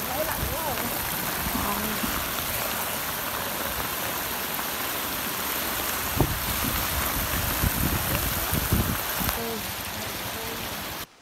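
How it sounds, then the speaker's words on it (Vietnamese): Heavy rain with rainwater rushing fast down a sloped street and flooding toward houses that have no drainage, a dense, steady roar of water that holds loud and continuous throughout. "mỗi lần mưa to, một lượng nước từ trên đỉnh dốc đổ xuống nhanh và nhiều"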